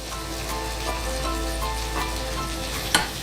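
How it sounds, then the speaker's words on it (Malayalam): Shallots and sliced onions for prawn biryani fry in oil, a loud, dense, continuous sizzle close by with one sharp knock near the end and no speech. "ഇനി ഇതിൽ കൊച്ചുള്ളി ആദ്യം ചേർക്കാം. ചെറിയ ഉള്ളിയും അതോടൊപ്പം സവാള, നമ്മളുടെ 3 സവാള ഹാഫ് സ്ലൈസസ് ആയിട്ട് മുറിച്ചത്."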